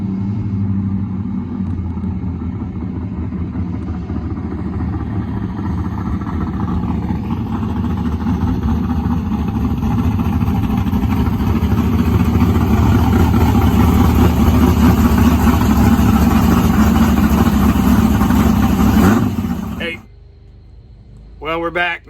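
A race car engine runs loudly and steadily, its roar building as it accelerates for about twenty seconds before cutting off abruptly, followed by a brief quieter rumble.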